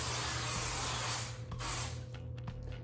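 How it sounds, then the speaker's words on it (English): Hairspray hisses in a long continuous burst onto knotted hair, close and steady, followed by a few short spritzes. "I'm gonna spray the knots."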